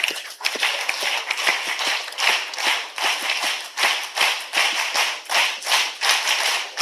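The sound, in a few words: audience applause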